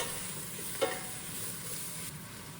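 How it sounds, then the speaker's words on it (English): Bok choy stir frying in garlic-scented oil gives a soft, even sizzle with one brief clack of a utensil early on, fairly quiet and without talk. "Then add the bok choy and stir fry it for about a minute"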